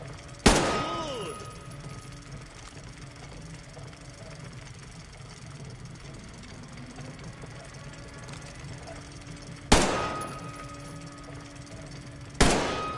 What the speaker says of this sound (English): Oh, I always wanted to see a real gun in action